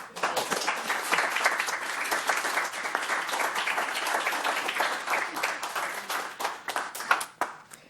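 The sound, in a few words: audience applause for retiring police chief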